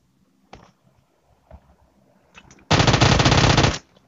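Sustained burst of automatic machine gun fire in an online shooter game, loud and dense for about a second, preceded by a few scattered single shots and small clicks.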